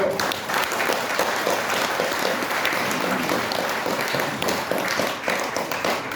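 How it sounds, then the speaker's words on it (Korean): An assembly crowd at a political movement launch rally claps together, a loud, dense, continuous round of applause from start to finish. "저희들 모두를 위해서 박수 한번 치시고 시작하시죠"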